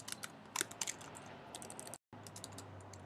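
Typing on a computer keyboard while editing text, a brisk run of close, crisp key clicks with brief pauses and a short silent break midway.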